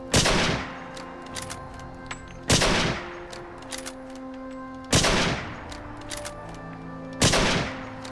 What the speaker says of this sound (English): So, this is what the standard receiver for the 98 sounds like.